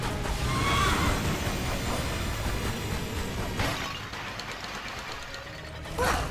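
A horse neighs and kicks in the video game Tomb Raider: Anniversary, with a loud whinny near the start amid dense, continuous game noise and a sharp burst near the end.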